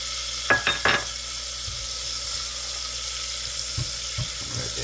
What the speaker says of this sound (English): Okay, we're gonna go to the saute pan now. I'm going in with 6 tablespoons of butter.